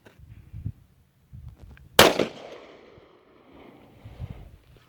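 A single loud 9mm shot from a Smith & Wesson M&P Shield pistol fired into 20-year-old kevlar outdoors, a sharp crack with a ringing decay, set between quiet rustling and faint low movement noise.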